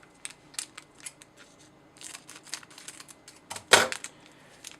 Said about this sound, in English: I'm just gonna cut the top off.